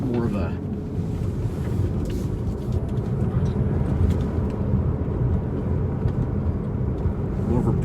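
A Tesla Model 3 Performance in track mode driving a canyon road, its electric drivetrain giving a steady hum blended with road and wind noise, constant and close throughout.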